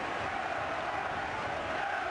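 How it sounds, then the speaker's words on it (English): A football crowd at a Watford match roars steadily after a shot strikes the underside of the bar. The dense, distant crowd noise swells as one continuous wash with no break. "And that's got the crowd going at long last."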